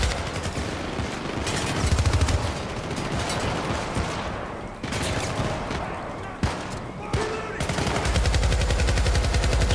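Minigun fire in the co-op shooter Syndicate: sustained rapid automatic bursts with brief gaps between them, loud and dense throughout.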